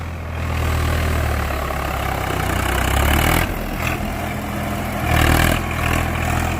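Swaraj 855 tractor fitted with new tyres runs nearby, its diesel engine giving a loud, steady low rumble that swells briefly a couple of times.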